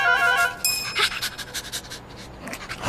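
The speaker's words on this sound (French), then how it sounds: "Yumi, qu'est-ce que c'est que ce chien?" A dog pants close by in quick, steady breaths, loud and clear, with no talking over it.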